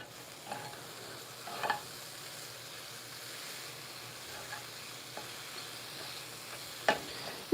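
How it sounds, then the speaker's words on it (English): Mushrooms being stirred in a frying pan give a quiet, low sizzle under a few soft, scattered scrapes and taps from the utensil, fairly faint and without speech. "So we're gonna stir up our mushrooms."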